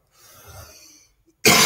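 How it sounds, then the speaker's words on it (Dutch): A single rough, raspy cough bursts out loudly right after a brief soft rustle and a short pause. "Dat is gewone hoest, is dat."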